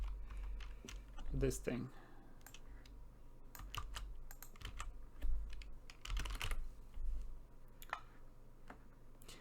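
Rapid clicking of computer keyboard typing, close and fairly quiet, with irregular bursts of keystrokes and brief pauses while someone talks over it.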